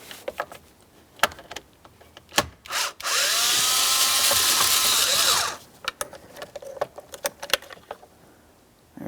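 A power tool spins out a mounting bolt while a wiper switch is replaced on a 2015-2025 Ford Transit 250. One loud, steady whir lasts a few seconds, with scattered clicks and handling knocks before and after.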